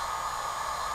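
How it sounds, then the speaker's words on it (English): A heat gun blows a steady, airy hiss of hot air onto heat shrink tubing over a zip tie holding an antenna, close and even throughout the brief moment. "I'm going to hit that with the heat gun so that the antenna doesn't move in there anymore"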